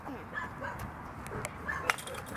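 Dogs at a dog park give brief yips and a few barks at a moderate distance, heard among outdoor ambience and low voices.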